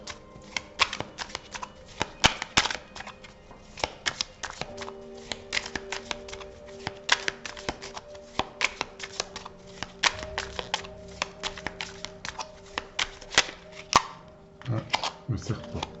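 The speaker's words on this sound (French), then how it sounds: "Je vais battre les cartes" Tarot cards are shuffled by hand in repeated bursts of riffling and slapping, with sharp card taps and pauses over sixteen seconds, close and fairly quiet, with a voice speaking at times.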